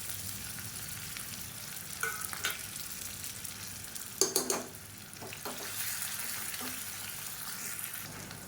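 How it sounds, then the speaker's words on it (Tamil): Small onions and crushed, unpeeled garlic cloves sizzle in a hot pan with a continuous frying crackle, broken by a few scraping stirs and a brief clatter of the utensil against the pan. "இப்போ இதை 2யுமே சேர்த்துக்கலாம். இந்த வெங்காயம் பூண்டு நல்லா செவந்து வரணும்."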